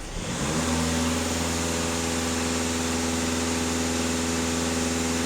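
A VW Passat 2.0 TDI diesel engine held at raised revs after idling, a steady loud mechanical drone with a sustained hum, close and constant, no voices.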